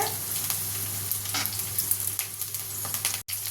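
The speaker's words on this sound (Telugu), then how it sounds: "చికెన్ ఫ్రై ఆల్మోస్ట్ అయిపోయింది ఇంకొంచెం వేగాక ఉప్పు కారం చల్లేస్తే అయిపోతుంది" Chicken frying in a pan in an Indian home kitchen, giving a steady, close, continuous sizzle and crackle that runs throughout, with a brief cut near the end.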